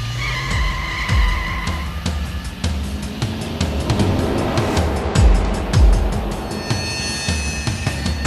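A car brakes hard and its tires skid on the road, drawn-out scraping screeches with engine rumble and passing-traffic noise, loud and near, ending in a stop with no voices.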